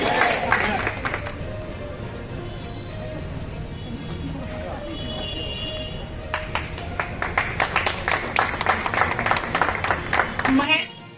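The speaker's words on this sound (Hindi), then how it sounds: "जोरदार तालियों से स्वागत करेंगे" A crowd at a patriotic freedom-fighter commemoration bursts into applause, the clapping building to a dense, loud patter near the end, with voices and chatter underneath throughout.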